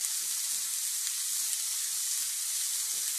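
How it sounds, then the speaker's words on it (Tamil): Onions, green chilies and curry leaves sauté in hot oil after mustard seeds have popped, producing a steady bright sizzle that fills the whole moment, close and even, with no talking. "கடுகு பொரிஞ்சதும் வெங்காயம், பச்சை மிளகாய், கருவேப்பிலையை அதில் சேர்த்து நல்லா வதக்கிக்கிறேன்"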